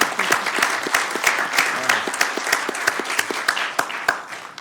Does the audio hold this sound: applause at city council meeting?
yes